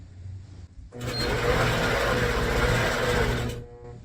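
A longarm quilting machine stitches quilt binding in channel lock, a single steady mechanical whir lasting about two and a half seconds, close and fairly loud, starting and stopping abruptly against quiet room tone.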